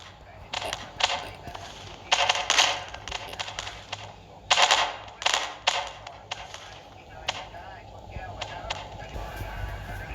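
Video game gunfire in a Vietnam War paratrooper scenario, bursts of rapid automatic shots in several clusters, loud and close, with speech over the action.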